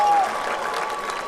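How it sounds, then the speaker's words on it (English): A parish youth audience breaks into applause, a dense, loud burst of many hands clapping together, with a brief tone at the start. "I think you need to give yourselves a round of applause."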